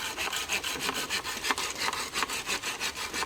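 Hand saw cutting through wood for a fence on a Thai farm, with rapid rhythmic push-pull strokes rasping evenly and close by, no talking.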